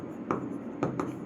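A pen writing on paper during an accounting lesson: three short, quiet scratching strokes close to the microphone, with no talk.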